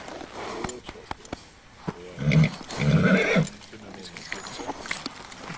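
A horse neighs loudly at the Spanish Riding School in Vienna, with a strong whinny in the middle among soft stable noises and clicks, while a voice talks nearby.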